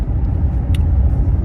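A used car on a test drive rumbles along steadily, heard from inside the cabin as a loud, constant low road and engine drone with one brief higher click partway through.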